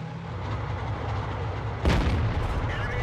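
A single heavy tank cannon shot in World of Tanks cuts through a steady engine and battle rumble, a sharp booming report with a lingering rolling tail.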